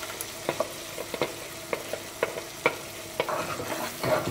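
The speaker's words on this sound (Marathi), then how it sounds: "हें चून आनी मसाला आमी मिक्स करूया." Rice flour paste is stirred into masala frying in a pan for Goan patal bhaji, giving a soft sizzle with repeated spoon scrapes against the pan, close and fairly quiet.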